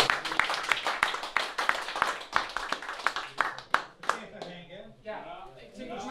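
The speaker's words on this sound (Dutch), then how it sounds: "Een applaus." Applause and clapping from an audience at a farewell gathering for an old windmill, a dense run of sharp claps for about four seconds that fades and thins out toward the end.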